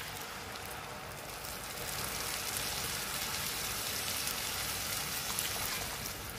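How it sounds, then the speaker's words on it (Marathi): Hot water poured into rice in a pot for Maharashtrian masala bhat, a steady, dense rushing splash that swells slightly partway through and continues unbroken to the end, close up with no talk. "हे मी पाणी गरम करून घेतलेलं आहे, गरम पाणी ह्याच्यामध्ये एक कपला दोन कप घालून घेऊया।"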